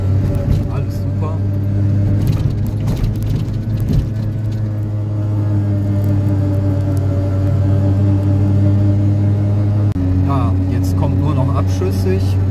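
A Piaggio Ape 50 three-wheeler drives downhill with a steady, loud engine drone that holds a constant pitch throughout, shifting tone slightly near the end; faint rattles sit over it and a person talks briefly.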